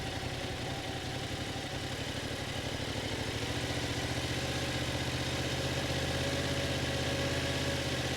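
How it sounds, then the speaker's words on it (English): A motorcycle engine runs close by at one steady RPM with neutral throttle, an even, continuous mid-pitched drone with a rapid pulsing beat and no change in speed. "as I apply this throttle, notice that the bike's gonna just stay at one set RPM, and this will simulate one speed"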